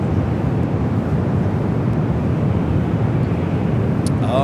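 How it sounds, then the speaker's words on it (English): A British Airways Airbus A380 takes off at San Francisco airport as a dense, steady broadband jet roar heard from a distance, with wind buffeting the microphone. "But apparently British Airways A380 taking off on one right"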